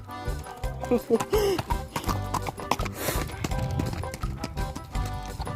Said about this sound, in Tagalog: nagraride sila ng kabayo